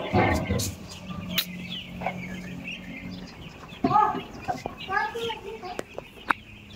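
Chickens cluck and squawk in short bursts among a poultry-farm flock, with scattered sharp clicks and low background noise.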